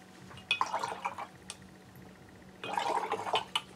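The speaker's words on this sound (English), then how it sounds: "Rinse your brush" Paintbrush swished and rinsed in a water pot while crafting, two short bursts of soft splashing and dripping with a quiet pause between, close and gentle.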